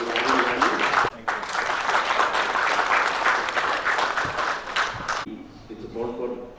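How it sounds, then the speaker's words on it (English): An audience at a panel discussion claps steadily for several seconds, a dense wash of applause that briefly dips, then fades out near the end. "give him a round of applause"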